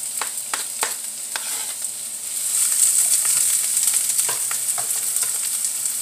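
Onion for sauerkraut fries in a pan with a steady bright sizzle that grows louder partway through, punctuated by a few clicks of stirring, close by.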